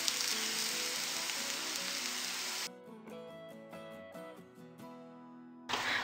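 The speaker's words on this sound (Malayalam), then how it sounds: "മഞ്ഞൾപ്പൊടിയും മുളക് പൊടിയും മൂക്കാനായിട്ട് കുറച്ച് നേരം ഒന്ന് മൂപ്പിക്കാം" Turmeric and Kashmiri chilli powder frying in oil for a Kerala prawn curry, a bright, dense sizzle for a few seconds that cuts to soft background music with plucked tones, then the sizzle returns at the end.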